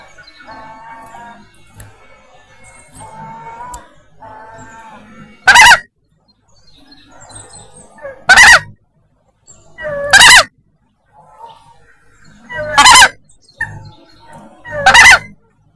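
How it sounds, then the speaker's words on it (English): An emperor goose gives five loud, harsh honks spaced a couple of seconds apart, close to the microphone, between stretches of quieter low chatter and faint background calls. "we're going to go to the goose cam. Yep, where we have an emperor goose standing by."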